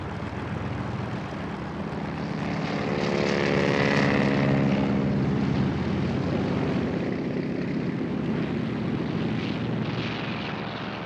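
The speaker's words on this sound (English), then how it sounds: "the Japanese fast attack force of 183 aircraft began taking off." Japanese propeller warplanes of a 183-aircraft attack force take off from carriers on the morning of December 7th, a loud, steady engine drone that swells and fades a little over several seconds, with no voices.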